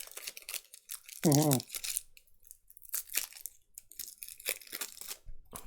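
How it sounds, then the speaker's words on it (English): A new deck of playing cards being unwrapped: short crinkling and tearing of plastic wrap in several quick bursts, close to the microphone, with brief murmured speech and a sung or hummed note in between. "New deck of cards being opened."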